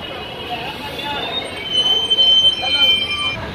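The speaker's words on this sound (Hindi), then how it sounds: "तो बगल में कोई ट्रेन जा रहा है भाई" A train rolls past on the adjacent track at Yeshwantpur station, a steady close rail roar with high wheel squeal that swells louder midway, with voices in the background.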